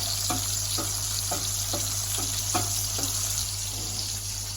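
Garlic paste frying in a pan mixture for a plant-based brunch dish, a steady sizzling hiss with a regular series of soft stirring scrapes about twice a second, backed by a low constant hum.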